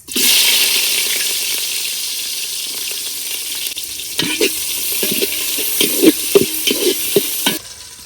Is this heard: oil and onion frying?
yes